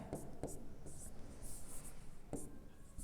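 Someone writes out a radioactive decay formula during a Hindi physics lesson, with faint, scratchy strokes and light taps repeating in short bursts against a soft background hiss.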